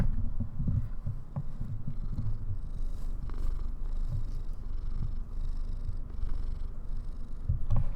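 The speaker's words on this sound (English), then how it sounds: "Let me see if I can get the microphone for his purring." Midge the cat purrs right into the microphone, a low, rhythmic rumbling throb that pulses steadily and close, with no talking over it.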